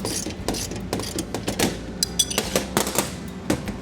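Bolts being tightened by hand on a Blaze 15-inch flame weeder assembly, giving a close, steady run of ratcheting clicks and metallic clanks in uneven bursts, with no talk.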